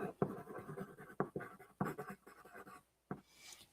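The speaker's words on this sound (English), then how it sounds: "I'm going to write it down." Pen or pencil writing by hand on paper, a few short scratchy strokes and taps in quick bursts with brief pauses, close and quiet, no talking.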